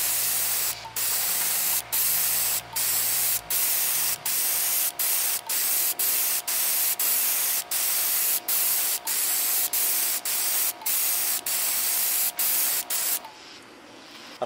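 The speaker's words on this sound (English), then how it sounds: "let me clear coat the board. I'm going to apply the two heavy coats." Two-part urethane conformal coating sprayed onto a circuit board in a long series of close, loud hissing bursts, each about half a second to a second, with short regular gaps between them until the spraying stops.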